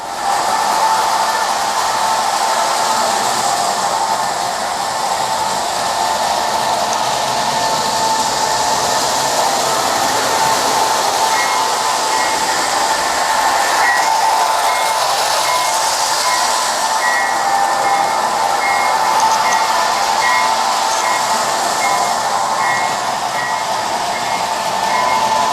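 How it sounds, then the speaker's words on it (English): A model diesel locomotive train runs on a layout track, giving off a steady, loud mechanical whir and hum with faint tonal whines throughout, and no voices. "As you can hear, the diesel is winding down."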